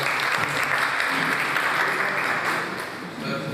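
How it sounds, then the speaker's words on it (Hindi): An audience at a naat mushaira applauds poet Arooj Zaib, with a brief, steady burst of clapping that holds evenly throughout and eases slightly at the end. "मैं चाहूँगा कि अरूज साहिबा के लिए थोड़ी सी तालियां ज़रूर बजा दीजिए"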